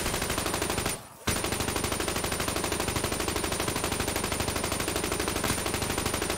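Rapid automatic gunfire from a gun in Black Ops 3 Custom Zombies, a fast, even stream of shots that stops for a moment and then resumes, loud and close.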